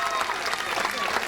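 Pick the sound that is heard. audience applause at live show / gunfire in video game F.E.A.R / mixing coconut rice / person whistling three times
audience applause at live show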